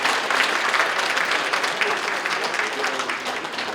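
Applause from an audience at a Korean party leadership campaign event, a dense steady clapping throughout the short span at moderate loudness.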